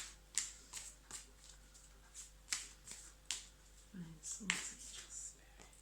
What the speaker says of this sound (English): So I'll keep pulling out some cards.